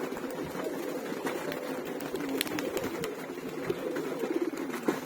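Pet pigeons coo softly and repeatedly at close range, a low burbling chorus that runs steadily throughout without any voices.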